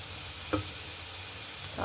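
Chilli powder, turmeric, roasted fenugreek powder and asafoetida sizzling in oil in a pan on low heat, a steady close hiss with a couple of brief stirring scrapes, no voices.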